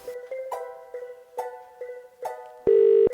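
Outgoing telephone call: a repeating pattern of short electronic tones, then a loud, steady single tone held for about half a second near the end. No voices.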